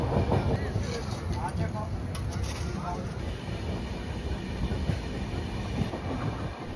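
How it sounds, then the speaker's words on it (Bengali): Train rolling out of Santragachi station, a steady low rumble with faint rhythmic wheel clatter throughout, close and continuous with no distinct voices. "ট্রেন রওনা দিল সাঁতরাগাছি স্টেশন থেকে।"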